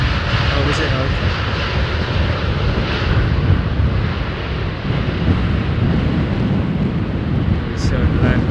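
Airliner landing at London Heathrow Airport, a steady broad engine roar with wind rumble that stays loud throughout, and voices murmuring faintly underneath.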